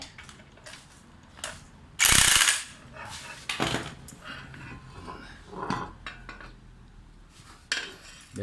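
An impact tool drives a shock absorber spring compressor tight, giving a sharp loud rattling burst followed by shorter metallic ratcheting clatters and clinks from the car suspension parts being assembled.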